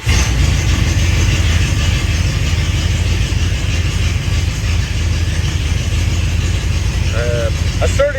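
A 1984 Oldsmobile Delta engine running loud and close, a steady low rumble from open headers, with a brief squeaky noise near the end.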